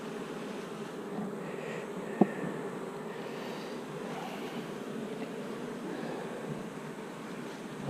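Bees buzz around an open hive full of eggs on a very hot day, a dense steady hum close to the microphone, with one sharp tap partway through.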